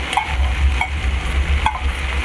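Boiled chana dal goes into a pan of frying Chettinad mutton podimas with a steady close sizzle, broken by a few light stirring scrapes and clinks, and no talking.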